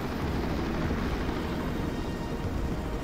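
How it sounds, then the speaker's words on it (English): Drakon-class attack helicopter in the video game Phantom: Covert Ops, heard as a steady, dense rotor and engine roar that fills the whole stretch at constant loudness, with no talking over it. "That's a Drakon-class attack helicopter, a tank killer."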